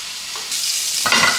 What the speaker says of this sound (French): On va finir la cuisson du steak tout doucement